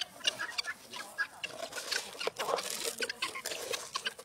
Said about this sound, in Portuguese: As galinhas estão querendo dormir de casa.